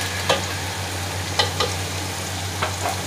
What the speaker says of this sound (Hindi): चिकन को अच्छे से ब्राउन कलर आने तक हम अच्छी तरह फ्राई करेंगे।